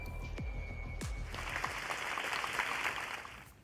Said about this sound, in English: Everyone applauds